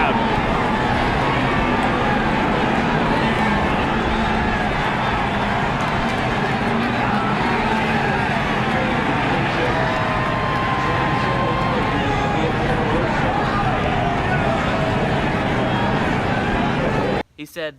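Dense crowd roar fills a stock car race track throughout, a steady wall of cheering and murmur with engine-like rumble beneath, loud and continuous until it cuts off abruptly at the end.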